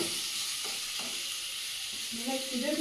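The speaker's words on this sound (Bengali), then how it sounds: "আজকে সিম ভাজা হচ্ছে আলু দিয়ে" Broad beans fry with potatoes in a pan, giving a steady close sizzle with faint stirring scrapes throughout the short stretch.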